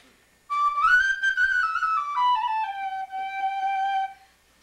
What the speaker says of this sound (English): I like to play Penny Whistle a lot.